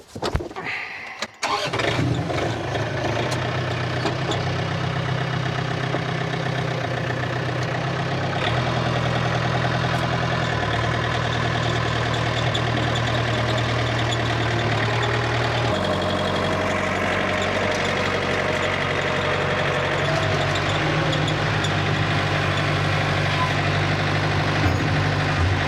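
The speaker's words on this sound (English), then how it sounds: "Left the tractor back here today." A tractor engine on a 17-acre farm idles steadily close by, a low continuous rumble after a brief starting clatter, with no talking.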